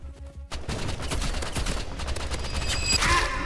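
Rapid bursts of paintball gun fire in the Roblox shooter Rivals, a dense run of sharp popping shots close up and loud through the whole stretch, with no voices.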